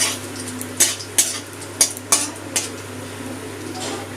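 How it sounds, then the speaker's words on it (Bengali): Whole cumin, bay leaf and dried red chillies fry in hot oil in a pan with a soft sizzle, broken by several sharp metal clanks of a spatula against the pan. "ফোড়নটা একটু তেলে ভেজে নেব"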